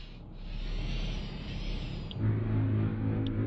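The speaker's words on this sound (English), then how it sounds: "Hear that sound? That's supposed to be a tractor beam" A tractor beam in the X4 video game with the Star Wars Interworlds mod gives a sustained, airy hum that grows into a deeper, louder drone partway through.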